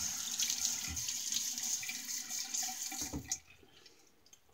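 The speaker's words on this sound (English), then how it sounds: "Let me go ahead and wet my face." Tap water running into a sink while someone wets their face before a wet shave, a steady rushing stream that cuts off near the end and leaves quiet drips.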